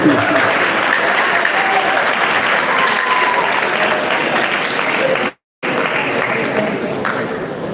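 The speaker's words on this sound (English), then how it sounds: "Once again, a round of applause for the beautiful sensitization" A large audience applauds at a school matriculation ceremony after an anti-drug sensitization talk, a loud, dense wash of clapping that runs steadily with a brief cut near the end.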